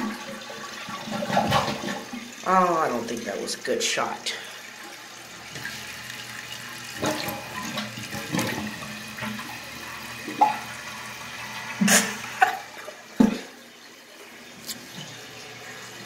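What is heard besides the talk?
flushing a 1989 American Standard Cadet toilet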